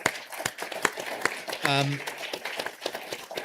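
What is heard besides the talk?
audience applause for board members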